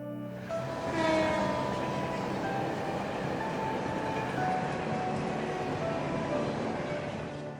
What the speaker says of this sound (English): last train bound for Calvert?